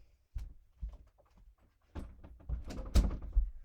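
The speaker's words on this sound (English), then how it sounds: "let me just shut my door real quick" A door being shut nearby: a few soft bumps and handling sounds, then a firmer thud and rattle as it closes.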